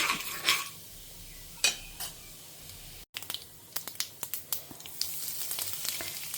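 Mustard seeds and urad dal fry in hot oil, a close, bright sizzle broken by sharp crackling pops and a few metal utensil clinks against the pan, with no talking.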